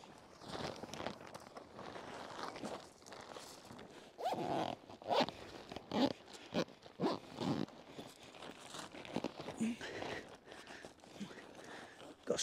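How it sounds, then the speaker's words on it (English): Zipping up a windsurfing travel bag packed with sails, a series of short rasping zipper pulls with pauses and rustling handling noises between them, fairly close and quiet, no talk. "let's zip it up first"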